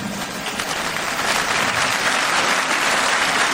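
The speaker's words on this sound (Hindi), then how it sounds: "अब तालियां मत बजाइए" Loud, steady applause from a large audience at a women's gathering held in Kashi, an even wash of many hands clapping that continues without a break.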